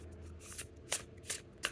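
A deck of oracle cards with a slightly textured, rough-feeling stock is shuffled in four quick, crisp riffling bursts, close and fairly quiet with no talking.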